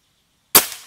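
A single sharp shot from a Bocap Monster PCP air rifle with a wooden stock, a sudden loud crack after a silent moment, trailing off in a short decaying tail.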